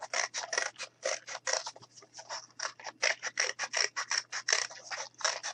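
Scissors cut through a cardboard circle in quick, repeated snips with a steady rhythm, close and quiet, running continuously apart from brief pauses.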